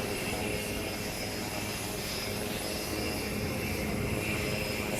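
Indian Air Force Surya Kiran aerobatic team jets taking off, a steady loud broadband engine roar sustained throughout without any talk.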